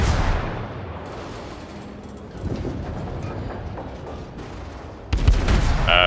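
Heavy battleship gunfire in the World of Warships naval game, a few booming blasts over a rumbling engine and sea bed, with a louder, sharper burst near the end.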